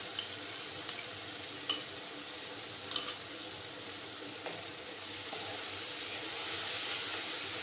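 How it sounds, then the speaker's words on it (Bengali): Cumin, turmeric and chilli powder being sautéed with fried onion for a radish-greens jhol, a steady soft sizzle with occasional spoon scrapes and stirring knocks, close and alone. "দিয়ে মশলাটাকে ভালো করে কষিয়ে নেব"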